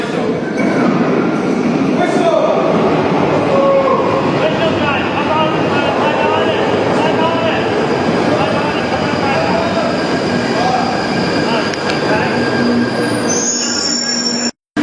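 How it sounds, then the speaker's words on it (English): Leaving Kentish Town, a London Underground Northern Line train rumbles out with loud, continuous wheel squeal and screeching along the rails, while a person speaks briefly near the end. "the next train that's going to make an appearance is going to be a London Underground's Northern Line service to High Barnet"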